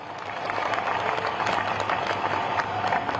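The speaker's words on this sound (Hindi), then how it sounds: "एक बार जोरदार ताली आपकी बजनी चाहिए।" An audience applauds together, a dense wash of clapping that holds steady for a few seconds.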